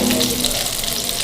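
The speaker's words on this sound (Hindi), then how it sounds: "इसको पानी में डिप करते हैं" Pieces of chicken being dipped into water during kitchen prep give a steady wet splashing and sloshing hiss, close and continuous, with no voices.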